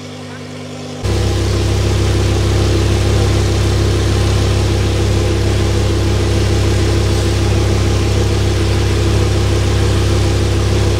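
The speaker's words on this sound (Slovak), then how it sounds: "Beží to chvíľku a už je normálne pozohrievané." An Audi R8 engine, freshly cleaned, starts up and settles into a steady, loud idle as it warms, a continuous low rumble after a brief quieter lead-in.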